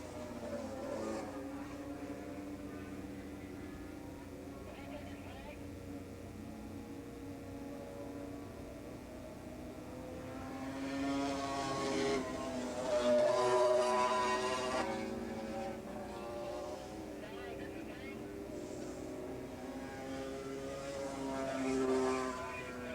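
Yamaha 450/250 Super Street racing motorcycles run on the track at Willow Springs Raceway, their engines buzzing faintly in the distance, swelling louder as bikes pass mid-way and again near the end, with commentary talk layered over them.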